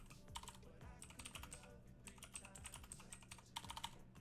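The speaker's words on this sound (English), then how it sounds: "I know this is so exciting, watching me type." Keys clatter quickly on a computer keyboard, a dense, uneven run of close clicks and taps with brief pauses, quiet and alone without talk.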